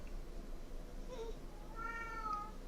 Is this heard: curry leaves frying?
no